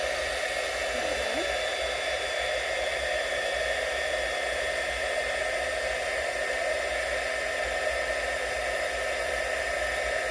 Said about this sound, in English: that heat gun's just gonna blow it everywhere